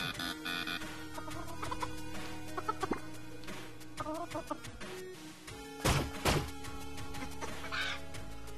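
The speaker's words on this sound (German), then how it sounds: "Da ist ein Huhn drin, oder nicht?" A chicken clucks in short, repeated bursts inside the virtual-reality game Pixel Ripped 1978, moderately close and mixed with game music and effects.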